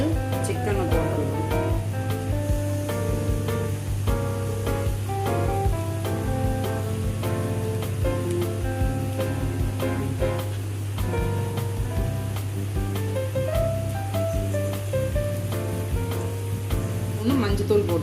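Chicken pieces for a spicy chicken chukka hit a hot pan and sizzle steadily, a continuous frying hiss running under background music and a low hum.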